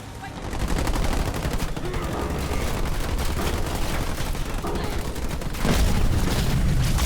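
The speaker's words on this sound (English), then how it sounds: "Marines under fire from enemy ground troops!" Marines' gunfire in a Halo Wars 2 battle, dense continuous volleys of rifle and machine-gun shots with heavier booms, loud and sustained throughout.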